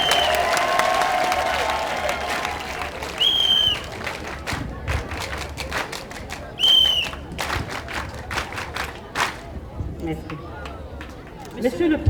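A crowd of women at a gathering in Sinfra cheering and applauding themselves, scattered clapping and excited shouts spread around a hall, with bursts of louder cheering and a voice speaking over it.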